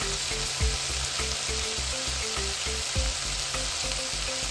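Chopped okra and tomatoes sizzle steadily in a hot pan for a Telugu okra stew, a constant frying hiss with occasional stirring scrapes and a low rhythmic hum underneath, close and without talk.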